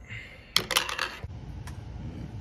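Keys are pressed on a Lenovo T420s laptop keyboard, a few quick plastic clicks clustered together followed by a single softer tap, close up over a quiet background hiss.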